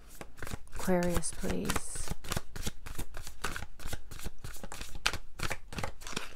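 Tarot cards are shuffled close up in quick, repeated riffling flicks that run steadily throughout, with a person speaking briefly partway through.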